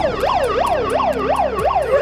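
An ambulance siren wails close and loud in a rapid, repeating up-and-down sweep with several cycles in quick succession.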